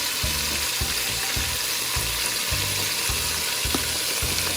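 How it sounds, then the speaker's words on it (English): White chicken chili with spicy pepper and cumin browning in a pot, a steady close sizzle with repeated low scraping thumps as it is stirred. "we're just gonna stir this up and let all the pieces brown and pretty much just cook throughout"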